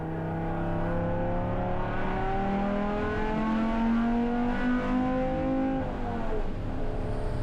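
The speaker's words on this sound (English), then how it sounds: "I was able to just get a taste of that glorious 5-cylinder sound bouncing off the walls of Watkins Glen." A Volvo 850 five-cylinder engine pulls hard around the Watkins Glen road course, a loud, sustained near drone with rising pitch as it accelerates, one brief shift near the end.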